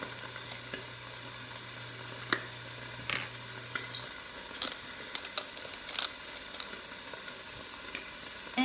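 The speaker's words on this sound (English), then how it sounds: "while I'm stirring this" Garlic and pepper sizzling in a hot frying pan while being stirred, a steady close hiss with light scraping and clinking taps from the stirring, no voices.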